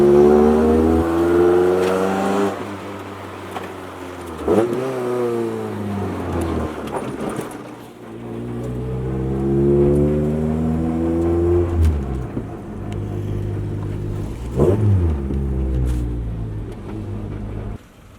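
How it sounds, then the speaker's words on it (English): Revving engine of a K-swapped Honda Integra project car with its exhaust vibrating, rising and falling in repeated pulls over about eighteen seconds, loud and close with rattly drone underneath. "The exhaust vibrating."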